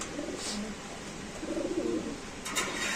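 Pigeons coo in a cage at a bird market, their soft rolling calls repeating close by in a few bursts over steady background noise and faint voices.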